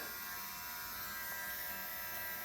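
A steady electric buzzing of a nail dremel grinding against a fingernail close up, continuous and even for a couple of seconds.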